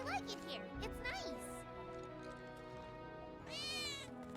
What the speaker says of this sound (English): I think one of Betty's cats might be nearby.